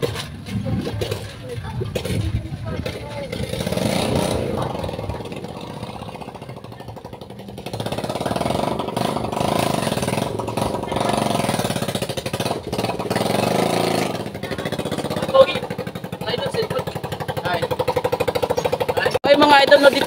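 Motorcycle being pushed and then started without its kickstart fitted, a rough rattling engine clatter that rises and settles into an uneven idle, with people talking over it.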